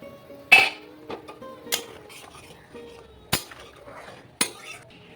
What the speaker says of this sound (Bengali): এবার একটু ঢাকা দিয়ে ফুটতে দিব।